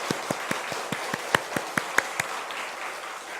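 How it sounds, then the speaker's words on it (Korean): A church congregation claps in thanks for the choir during a morning worship service, a fairly rhythmic run of claps, close and distinct, over a soft crowd bed. "우리 한번 뜨겁게 감사의 박수 한번 보냈으면 좋겠습니다"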